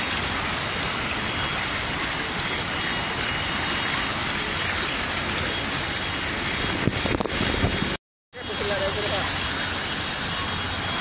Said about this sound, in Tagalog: Grabe yung ano dito, grabe yung ulan dito.